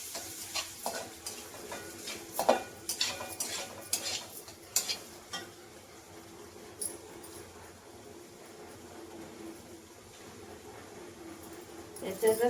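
Onion and masala stirred in a pan: scraping spoon strokes and clinks come in an uneven run early on, then settle into a soft sizzle, while someone talks throughout.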